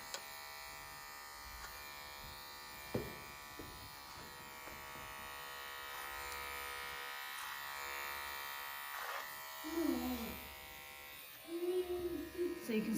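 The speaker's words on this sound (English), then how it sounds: "we're doing it with clipper over comb" Electric hair clippers cutting a child's hair over a comb, a steady close buzz running throughout with soft handling noises and a few brief thumps.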